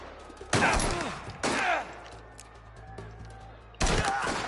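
Three heavy gunshots boom in Mafia: The Old Country on PS5, close and loud, the first two about a second apart with a rolling echo after each, and the third after a longer pause.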